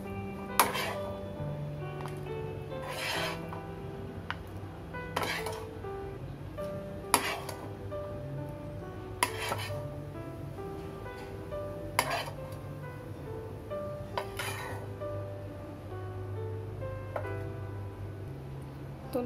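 Cooked black chickpeas (kala chana) being transferred into a bowl in a home kitchen, a regular series of sharp spoon-on-bowl clinks and scrapes at a steady rhythm, close and fairly loud, with faint background hum.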